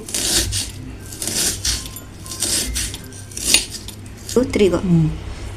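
Onions being finely chopped with a knife for pappu chukkakura, a close series of sharp taps and clicks spaced about a second apart, with a brief voice near the end.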